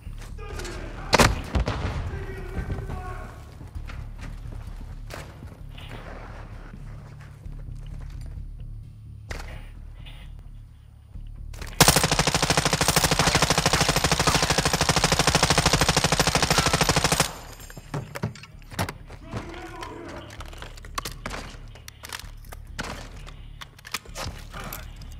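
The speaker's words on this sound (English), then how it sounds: "I'm gonna toss out some stun grenades and then dump ammo." Video game firefight with stun grenades tossed and weapons emptied: scattered gunshots and thuds, then a dense, loud sustained burst of automatic fire for several seconds before scattered shots return.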